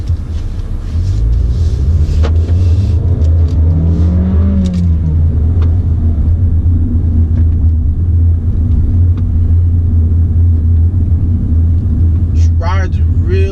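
A 2016 Volkswagen Jetta SE TSI being driven, a steady low engine and road rumble with a brief rising rev early on, heard from inside the car under someone talking.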